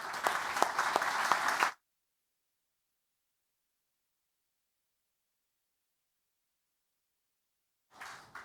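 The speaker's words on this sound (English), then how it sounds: "So I think there could be a big applause" A short burst of applause from a conference panel audience, dense clapping that cuts off abruptly, followed by long silence and a faint return of sound at the end.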